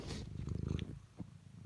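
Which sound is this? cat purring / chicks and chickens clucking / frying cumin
cat purring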